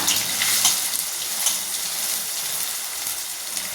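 Onion dropped into hot oil in a pan for dal khichda, giving a steady, close broadband sizzle of frying that holds evenly throughout with no talking.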